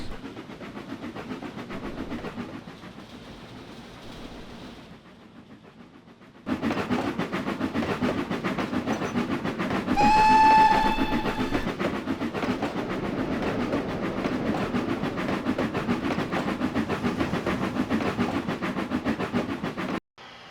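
Train running on rails near docks with wagons, a continuous rumble and clatter that drops quieter for a few seconds, then returns louder, with a brief whistle-like tone partway through.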